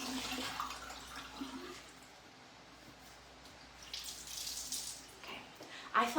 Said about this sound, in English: Just rinsing this out.